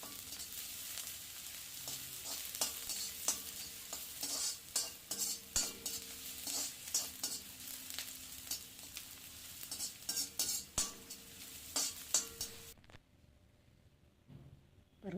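Chopped onion sautéing in a pan for beetroot rice, a steady sizzle broken by repeated scraping stirs and clinks of a metal spoon against the pan, ending in near silence.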